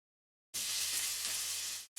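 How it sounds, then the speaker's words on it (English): Mushrooms and onions fry in a pan with a bright, steady sizzle that starts abruptly, runs for over a second, cuts off and then briefly resumes. "It's starting to sizzle."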